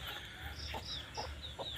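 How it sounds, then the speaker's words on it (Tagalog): Chickens cluck in short, repeated bursts around a rural yard, several birds close by over a steady low background hum, with no talk. "Ang dami ng manok."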